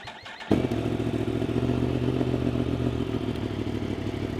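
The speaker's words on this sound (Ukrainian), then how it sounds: "Запустимо двигун." After a brief quiet moment, a Yamaha MT-10 SP motorcycle with about 19,500 km fires up abruptly and settles into a loud, steady idle rumble close by.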